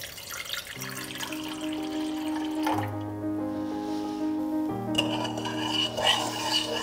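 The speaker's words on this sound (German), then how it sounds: "Und da kippe ich jetzt 200 Milliliter kaltes Wasser drauf." Cold water, about 200 millilitres, is poured onto dry yeast and sugar in a kitchen, a steady splashing trickle running under faint tonal hum, moderately quiet and close.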